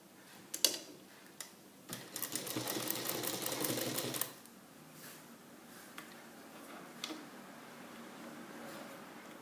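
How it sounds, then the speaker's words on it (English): A sewing machine stitches bias facing with about a quarter-inch seam allowance, one steady two-second burst of rapid mechanical ticking preceded by a few isolated clicks, fairly close and quiet, then faint handling sounds. "So stitching with 1/4 inch of seam allowance or less than that."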